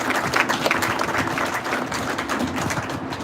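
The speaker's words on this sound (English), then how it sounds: "So let's give them a big round of applause." Audience applauding at a trolley station unveiling at a VA Medical Center, a dense, steady wash of clapping from a crowd, fairly loud and continuous throughout.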